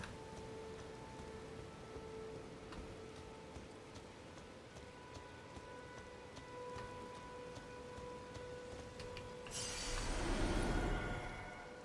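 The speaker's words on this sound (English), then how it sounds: "Oh, it's raining." Soft, quiet patter of rain falling outside during an evening livestream, faint and continuous with a few sharper drips, swelling briefly into a louder rushing burst near the end.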